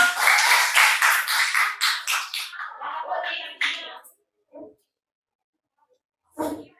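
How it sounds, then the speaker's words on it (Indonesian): A classroom group claps rapidly together for a few seconds, the applause fading out, followed by a couple of brief isolated claps. "Tepuk tangan dulu."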